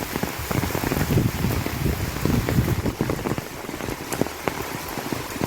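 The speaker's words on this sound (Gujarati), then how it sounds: "જો મંદિરમાં કેવો વરસાદ આવે છે." Steady rain falls at a temple, drumming densely and evenly on nearby surfaces with scattered louder drip impacts, continuous throughout with no voices.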